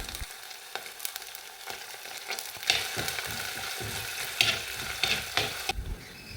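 Ginger and curry leaves fry in oil for a Kerala-style fish curry, a soft crackling sizzle broken by several louder stirring scrapes and spits, fairly quiet and close.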